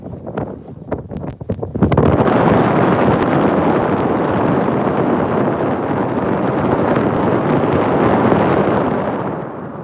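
Strong wind blows across the new Pamban bridge, a dense steady roar buffeting the microphone that starts after a brief quieter moment and stays loud to the end.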